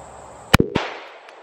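A Taurus Raging Judge Magnum model 513 revolver fires once at clay targets outdoors, a sharp loud bang followed by a quick echoing report, then fading to quiet.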